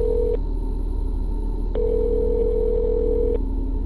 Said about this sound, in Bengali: না, এবারও ফোন তুলল না হৈমন্তী।